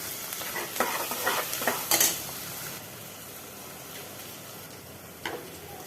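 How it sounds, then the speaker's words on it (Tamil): Onion, green chili and curry leaves frying in a pan for brinjal carrot sambar, with a soft steady sizzle and a few close stirring scrapes in the first seconds, then quieter frying. "இது நல்லா ஃப்ரை ஆகட்டும்"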